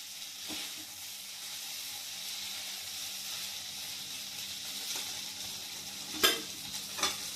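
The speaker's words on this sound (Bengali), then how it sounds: "এখানে ভালো করে ভাজা হচ্ছে" Baby corn for chilli corn frying in a pan, giving a steady sizzling hiss, with a couple of sharp utensil clinks near the end.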